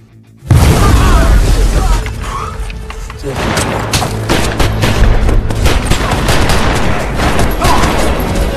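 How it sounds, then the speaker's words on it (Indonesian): A film shootout erupts with a loud burst of gunfire, followed by a dense, continuous volley of shots and booming impacts, with a voice talking over the action. "anak buah Toro secara tidak sengaja saling menembak dalam perangkap yang telah diatur sebelumnya."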